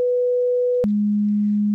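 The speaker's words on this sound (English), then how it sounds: "now we press a key and I press A. I hear this tune." Pure sine tones from a SuperCollider keyboard synth: one steady mid pitch, then an abrupt click and a sustained lower pitch, clean and alone.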